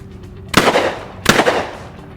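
Two loud shotgun blasts roughly three-quarters of a second apart at a clay target shoot, each a sharp crack with a brief decaying tail, heard close with no talk.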